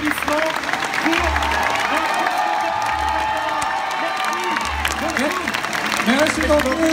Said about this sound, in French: Je vous demande encore une fois un tonnerre d'applaudissements pour